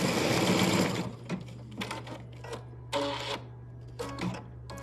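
A Baby Lock Altair 2 embroidery machine stitches an in-the-hoop treat bag, a steady loud mechanical whir at first, then breaking into short bursts of stitching with brief pauses between them.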